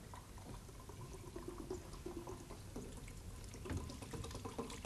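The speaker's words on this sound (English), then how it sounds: "I'm going to pour water into the glass inside this big container." Water poured from above into a plastic glass sitting inside a larger container, a faint continuous splashing trickle with gurgling and bubbly bursts throughout, no voices.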